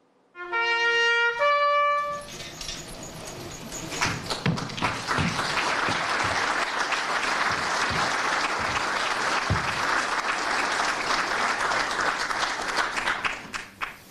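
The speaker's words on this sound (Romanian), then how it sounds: "Oficialii din Ministerul de Interne și cei din jandarmerie au aplaudat sceneta" Officials from the Interior Ministry and gendarmerie applaud a staged sketch, opening with a brief musical tone before a long, dense round of clapping from a sizable crowd, steady and fairly close until it tapers at the end.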